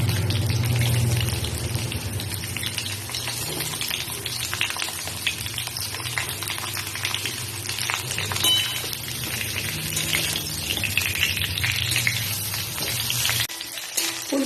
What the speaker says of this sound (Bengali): এবার এই তেলের মধ্যেই ফুলকপিগুলো ভেজে নিচ্ছি।